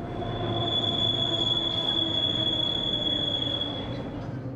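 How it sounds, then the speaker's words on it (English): Detroit People Mover train passing nearby, its wheels letting out a steady, piercing high squeal over a rumbling rail roar for several seconds with no talk. "That's the Detroit People Mover."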